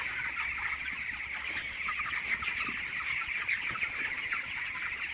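A flock of young chickens clucks and chirps steadily while pecking at grain, a dense continuous chatter close by with no talk.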